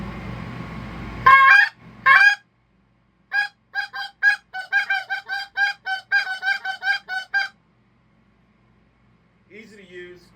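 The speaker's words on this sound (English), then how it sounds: "Got your full goose call right here, all built." A homemade goose call is blown in a rapid series of short, nasal honking clucks, loud and close, after two longer opening honks, with a faint trailing note at the end.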